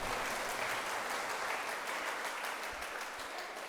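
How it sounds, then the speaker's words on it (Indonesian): A congregation at an Easter Sunday Mass in a Catholic church in Bandung claps together, a continuous, even patter of many hands heard at a distance and fairly quiet, holding steady throughout. "Tepuk tangan dong."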